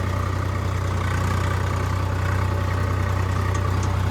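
A Swaraj 855 tractor engine idles steadily, a loud, close, low-pitched drone with a constant rhythmic throb and no pauses.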